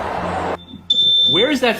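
An apartment smoke alarm lets out a loud, sustained high beep after a burst of chatter, with a voice starting to talk over the end.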